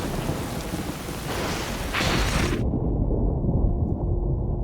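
Heavy steady rain with a deep rumble of thunder, a loud continuous wash of noise that briefly swells before the high hiss drops away.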